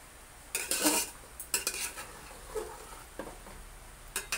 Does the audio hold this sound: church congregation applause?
no